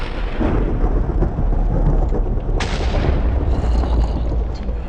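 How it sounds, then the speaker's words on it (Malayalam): Steady heavy rain hisses throughout while a sharp crack of thunder breaks in midway and rumbles on, loud and close, with no talking, in Minecraft. "ഇടിവെട്ടി മഴ പെയ്യുന്നു"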